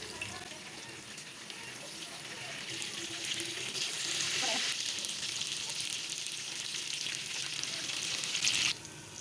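Chapli kebabs fry in a pan with a steady close sizzle that swells louder midway as they are turned, then continues evenly with no voice over it.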